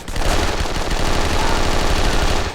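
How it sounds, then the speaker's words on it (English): Rapid, continuous automatic gunfire in the video game 007 Nightfire, loud and dense bursts running the whole stretch with no voices. "Where's this random gunfire coming from?"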